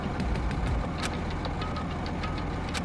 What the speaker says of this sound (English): The engine somehow sounds...